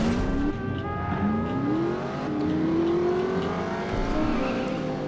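A car engine in The Saboteur drones steadily as the vehicle is driven, with rising gear-by-gear revving pitch sweeps repeating through several upshifts, loud and continuous with no talking.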